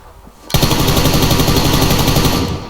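Rapid automatic gunfire from the PUBG Lite battle royale game bursts in after a quiet moment and rattles on loudly and steadily for about two seconds before easing off.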